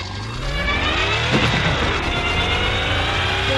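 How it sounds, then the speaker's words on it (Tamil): Car engine in the Extreme Drift 2 drifting game, a loud continuous droning rev with shifting tonal whine, steady and close throughout. "இந்த கார் இன்ஜின் சவுண்ட் கொஞ்சம் ஃபுல்லா கம்மி பண்ணிப்போம்"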